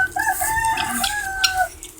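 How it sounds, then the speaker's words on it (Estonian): Pearl-grey backyard hens clucking close by in a short burst of rising and falling calls, with faint outdoor background. "See on meie kanad,"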